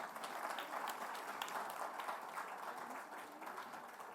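Audience applause at an awards ceremony honouring women in Chennai, a steady faint wash of many hands clapping that fills the room evenly from start to finish, with no voices over it.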